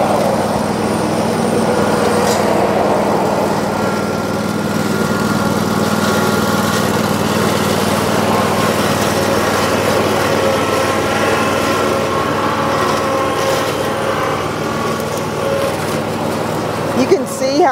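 A KIOTI ZXS48 48-inch standing zero-turn mower mowing a patch of grass, its engine droning loud and steady throughout with a faint voice now and then.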